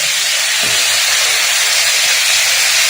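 Pumpkin pieces and greens stirred in a hot pan give off a loud, steady sizzle and hiss that runs throughout, with no talk over it.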